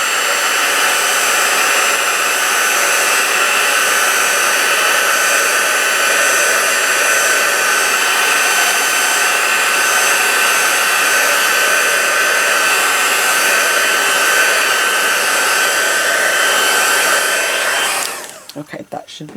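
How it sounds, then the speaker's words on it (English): A heat tool drying stamped ink on a card blows a loud, steady hot-air roar for about eighteen seconds, then cuts off with a faint rustle at the end. "we're gonna turn the heat tool on and just dry this just a bit"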